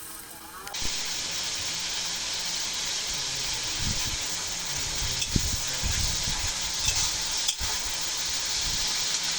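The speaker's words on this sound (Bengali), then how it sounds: "লবণ হলুদ সামান্য পরিমাণ ঝালের গুঁড়ি আর সামান্য পরিমাণ জিরের গুঁড়ি দিয়ে ওখানে কষাই করে নেব" Salt, turmeric, chili powder and cumin powder fry in a hot pan for an egg dish, giving a steady, loud sizzling hiss that runs unbroken for several seconds while someone speaks over it.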